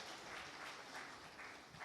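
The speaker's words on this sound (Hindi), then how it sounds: "जोरदार तालियां।" Applause from an audience at an interview event on a stage, a steady, fairly faint wash of clapping with no voices over it.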